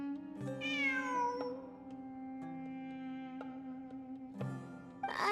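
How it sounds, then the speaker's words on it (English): A cat meows in Genshin Impact, several clear, drawn-out cries at moderate volume over sustained game music, with no talking. "It really is a cat."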